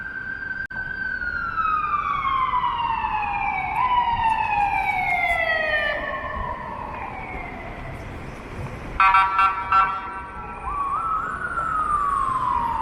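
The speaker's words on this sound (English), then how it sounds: "Got fire trucks coming from two directions here" Fire truck sirens wail along a Toronto downtown street, several overlapping descending sweeps that build loud and close, with a burst of horn-like blaring near the end over steady city traffic rumble.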